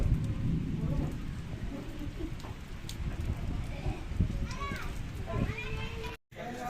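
Steady rain hisses outdoors during a wedding trip, with children's voices and people talking over the constant wash of falling water.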